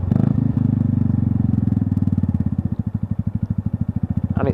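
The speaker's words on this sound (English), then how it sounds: "And it's idling fine now, absolutely idling crisp as a button." A Lexmoto Milano motorcycle engine idles steadily up close, a rhythmic low chugging thump that grows more distinctly pulsed toward the end, with no talk over it.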